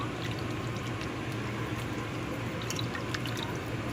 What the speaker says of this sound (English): So I'm going to give that a stir.